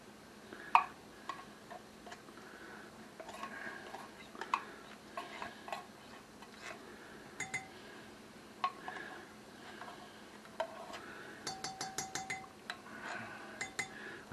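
A spoon scraping and tapping inside a can to get food out while cooking a taco casserole or cheesy potatoes, heard as scattered light metallic clinks and ticks, some in quick bursts, fairly close with no talking.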